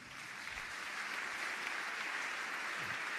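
A church congregation applauding: dense, continuous clapping that fills the room, steady and even in loudness, with no pauses for the whole stretch.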